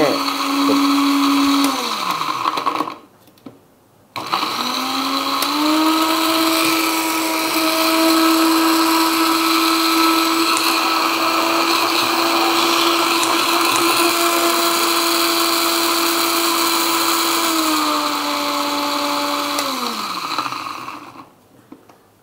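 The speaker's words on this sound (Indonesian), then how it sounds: "Kita blender." An electric blender whirs loudly, grinding turmeric and red ginger for juice, with a steady high motor drone that cuts out briefly, restarts, then winds down and stops near the end.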